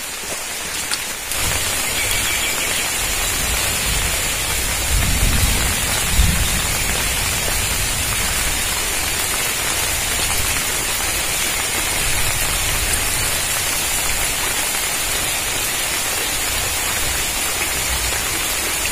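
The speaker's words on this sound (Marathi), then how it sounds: "आता परत भरलाय पाऊस" Steady monsoon rain pours down in rural Konkan near Rajapur, a dense even hiss of drops on surfaces, close and continuous, with a few heavier splashes and no voices.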